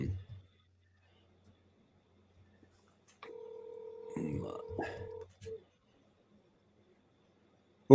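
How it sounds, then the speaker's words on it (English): An electronic phone ring sounds over a live stream, a steady two-tone chirp lasting about two seconds at moderate level, with a brief voice-like noise overlapping it and quiet surroundings otherwise. "You're hearing my brother's phone ring."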